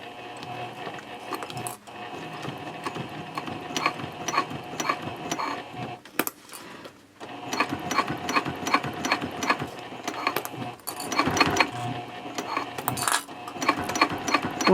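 A sewing machine stitches the side edge of a Cordura fabric trifold wallet in rapid mechanical bursts, with brief pauses and stops between runs, close and fairly loud.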